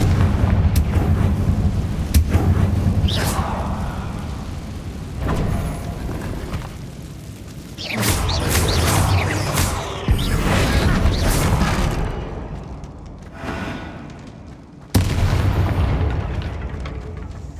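Repeated booming fire-spell explosions in Hogwarts Legacy, several loud bursts over rumbling game sound, with a quieter gap near the end before one last blast.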